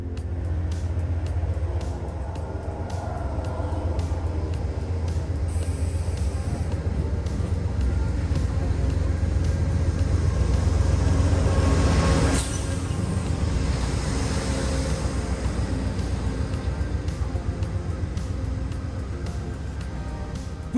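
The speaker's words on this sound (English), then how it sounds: "First up is Amtrak Hartford Line Train 450 departing north for Springfield." Amtrak Hartford Line Train 450 departs a station northbound for Springfield: a loud, steady rumble of wheels and engine with faint high squeals and rail clatter, sustained for about twenty seconds.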